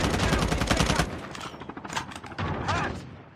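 Shotgun gunfire in the Call of Duty Mobile battle royale game, a burst of loud booming shots in the first second followed by scattered further bursts with game noise.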